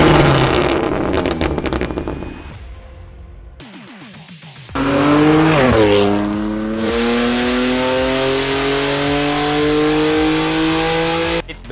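BMW M2 Competition fitted with Jbom 100-cell high-flow downpipes, its exhaust crackling at first, then after a brief lull roaring loudly as the engine revs up and holds a sustained, throaty drone close by.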